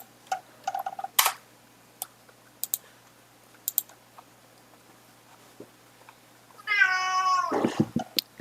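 A cat lets out a drawn-out, wavering meow up close, then a shorter second one, after a stretch of scattered soft clicks and taps in an otherwise quiet room.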